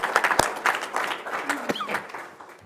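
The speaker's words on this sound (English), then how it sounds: "another round of applause for the Sertellas" Applause from attendees at a city council meeting, scattered claps with sharp individual hits, partly overlapped by someone talking nearby.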